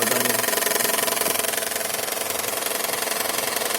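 A Toyota Estima engine freshly overhauled idles steadily and fairly loud, a continuous mechanical hum and whir with no knocking, running alone without talk.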